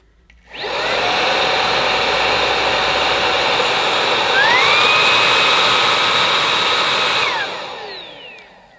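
A cordless Hetty Turbo vacuum cleaner switches on into a loud, steady whirring motor whine. Midway the pitch rises sharply as it shifts into turbo mode, then it winds down and cuts off.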